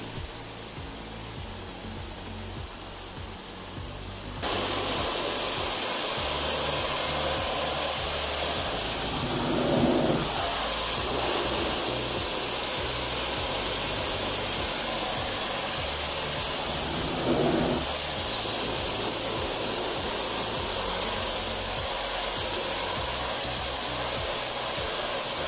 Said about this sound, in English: You do need a pressure washer for this.